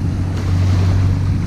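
A military boat races past on a no-wake waterway, its wake waves rolling in with a loud, steady low rumble and heavy wind buffeting near the microphone, no speech.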